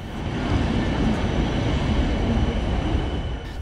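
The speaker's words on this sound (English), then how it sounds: "our train pulls in. It's hauled by a PKP Eurosprinter ES64U4 electric locomotive" A PKP EuroCity train hauled by a Eurosprinter ES64U4 electric locomotive pulls into the station, a steady close rumble of wheels and carriages rolling past without a break.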